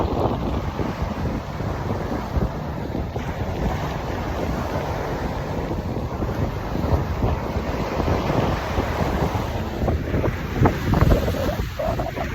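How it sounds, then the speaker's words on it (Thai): Strong wind blows at Pattaya beach in Thailand, a steady loud rush buffeting the microphone with surf washing in underneath, constant with no talk. "ลมแรงจริงๆครับ"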